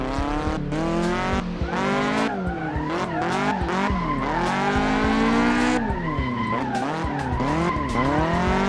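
Racing game car drifting with oversteer, loud, continuous tire squeal and skidding over a revving engine, the pitch rising and dropping again and again as the slide changes.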